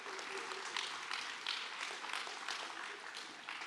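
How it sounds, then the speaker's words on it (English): A church congregation gives a round of applause after a missions skit: soft, steady clapping from many hands with a few brief swells, heard at some distance and without talking over it. "Y'all give them another round of applause"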